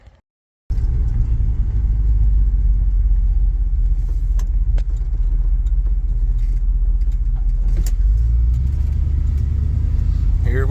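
A 1978 Dodge D200 pickup with 4.10 gears and no overdrive drives along scenic back roads, its engine giving a loud steady rumble inside the cab with occasional light rattles, starting abruptly after a brief quiet moment.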